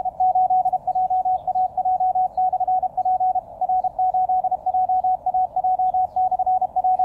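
A Morse code CW amateur radio signal received on a QCX mini transceiver with an end-fed antenna, a clear steady tone keyed in rapid dots and dashes over faint background hiss, strong and continuous.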